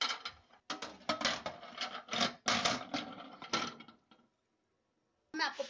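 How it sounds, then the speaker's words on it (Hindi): Microwave oven tray being handled and set back into place, a series of close, sharp clatters and clunks in irregular bursts, then a pause and a final knock. "मैं इसकी ट्रेस पे लगा देती हूँ।"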